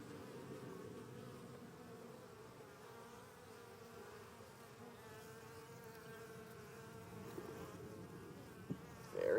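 Honey bees in a hive with brood frames lifted out make a steady, dense buzzing drone that carries on evenly throughout, close and moderately loud, with a few brief knocks near the end.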